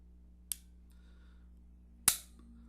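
Two sharp, isolated clicks from the trigger of a Ruger Security 380 pistol being pulled and then reset, about a second and a half apart, close and crisp over a quiet room hum.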